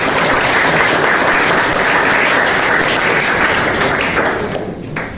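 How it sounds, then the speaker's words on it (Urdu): A crowd claps loudly and continuously as a guest is welcomed to the stage at a 10th-class school farewell in Jhelum, Punjab, the dense applause tapering slightly in the final second. "آپ کی بھرپور تالیوں میں فہد عزیز صاحب"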